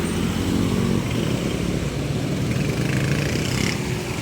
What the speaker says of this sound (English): Now just from the noise you can tell already we are out on the highway.